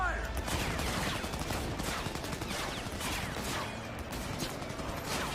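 Rapid volleys of video game gunfire fill a squad firefight in a Very Hard corporate mission on PC, with dense, overlapping shots running continuously and loudly throughout.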